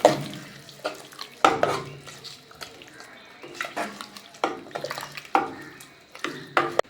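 A spoon stirring a hot tempering into drumstick leaf curry in a pan, giving a series of close, irregular wet clacks and scrapes with a faint sizzle between strokes, no speech.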